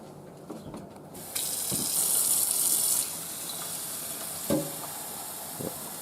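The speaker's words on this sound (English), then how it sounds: "So now I need Not at all to add sweet. 4 cups of water." Water pours and splashes steadily for a couple of seconds amid faint kitchen clatter, with a few soft knocks before and after, as four cups of water are added while making pine cone jam.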